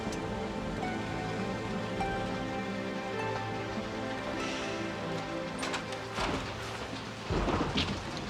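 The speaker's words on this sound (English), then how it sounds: "Sounds like this storm is right on our roof." Steady rain pours down with a constant wash of noise, and low rumbling thunder swells near the end, close and heavy.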